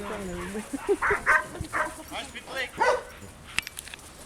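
Dogs at a Czech national lure coursing championship in Kralupy nad Vltavou, yipping and barking in short bursts close by, mixed with whimpers and mingled with nearby people talking.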